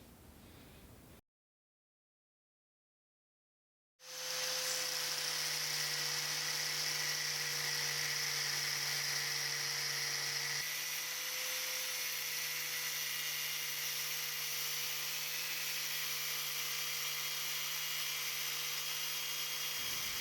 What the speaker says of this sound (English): The grinder head hit the profile and we can't cut in any further.